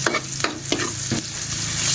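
Garlic and onion sautéing in oil left over from frying fish: a constant close sizzle broken by several sharp spatula strokes scraping the pan, with no voices.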